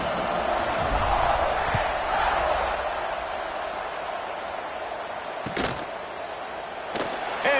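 A stadium crowd roars steadily in the College Football 26 video game. A broad, loud wash of cheering fades a little midway through, and a few sharp thuds cut in near the end.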